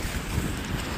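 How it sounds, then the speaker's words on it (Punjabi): Strong wind during a Toronto snowstorm at about minus twenty degrees, a steady close roar of gusts buffeting the microphone, alone with no voices. "ਓਹ ਦੇਖੋ ਬਾਈ ਹਵਾ ਬਹੁਤ ਤੇਜ਼ ਚੱਲ ਰਹੀ, 42 ਕਿਲੋਮੀਟਰ ਪ੍ਰਤੀ ਘੰਟੇ ਦੀ ਰਫ਼ਤਾਰ ਦੇ ਨਾਲ ਚੱਲ ਰਹੀ ਹਵਾ"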